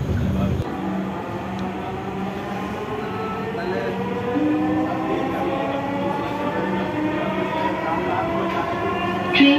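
A Dhaka metro rail train runs steadily, a continuous loud rumble and whine with rising electric motor tones throughout, onboard with the interior hum heard close.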